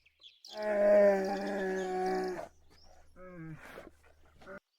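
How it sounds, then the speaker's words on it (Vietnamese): A bear gives a long, deep, groaning roar lasting about two seconds, close and loud, followed by quieter short grunting moans over a low hum. "Bear."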